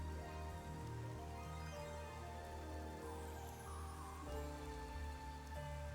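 Rain falls steadily in the video game Raincode, a dense, even patter that runs without a break under a soft, low background music bed.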